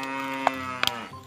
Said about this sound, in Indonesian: Masih ada suara sapi di sini.